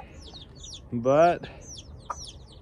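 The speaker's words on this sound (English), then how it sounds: "the chicks are chirping this morning" Chicks kept alive through cold weather chirp steadily with high, thin peeps beside their mother hen. Their chirps run through the whole moment, and a brief louder voiced call or word cuts in near the middle.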